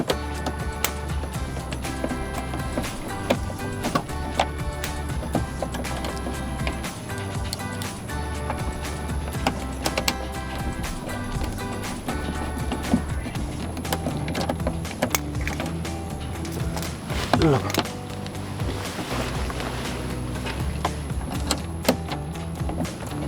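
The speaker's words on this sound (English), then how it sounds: "Now you get your ratchet into 7mm" A ratchet fitted with a 7mm socket tightening slightly rusty bolts on a 2015-2023 Dodge Charger SRT-style rear bumper diffuser, rapid repeated clicking at close range over a steady background hum.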